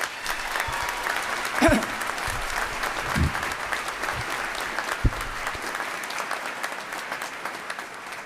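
Graduation ceremony audience applauding graduates from allied and partner nations, a sustained wash of clapping from a large crowd, moderately distant, with a few louder claps and faint voices underneath.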